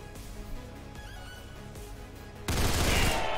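Gunfire in XCOM 2 with War of the Chosen mods, at first a quieter scattered background, then a sudden loud, dense burst of sustained shooting that holds to the end.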